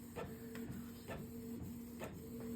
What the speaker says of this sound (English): Sorry about the printer noise.